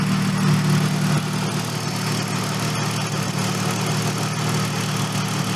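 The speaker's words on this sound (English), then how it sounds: "We unplugged it, the car's still idling" BMW car engine idling steadily during a mass airflow sensor check, a constant low rumbling hum at even volume throughout with a faint click partway through and no talking.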